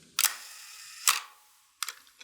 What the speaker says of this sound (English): what should happen when I push the button is that the shutter stays open, stays open for 1 second,